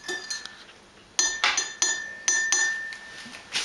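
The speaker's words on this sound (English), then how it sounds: "Stir the coffee." Metal spoon clinking against a ceramic cup while stirring coffee, a series of bright, close ringing taps in an uneven rhythm, about eight strikes with short decays in between and no talking.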